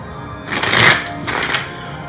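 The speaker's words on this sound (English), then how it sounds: "I like to shuffle on camera" Tarot cards being shuffled by hand, two quick riffling bursts of papery flutter close to the microphone, the first longer and louder, with no talking.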